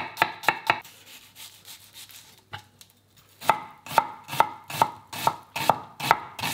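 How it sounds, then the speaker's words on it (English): Onion being finely diced brunoise with a knife on a cutting board, crisp sharp chops in quick regular bursts, close and clear, with a short pause before the steady chopping resumes. "now we're just going to cut them into bernoise. So very, very small."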